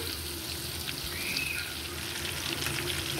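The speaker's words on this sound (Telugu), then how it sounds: "ఇది వెంటనే కదపొద్దు, అడుగును బాగా కొంచెం ఫ్రై అవ్వాలి" Fish fries in a pan, left unturned so the underside can crisp, giving a steady, close sizzle with a faint trickle of water under it and no voices.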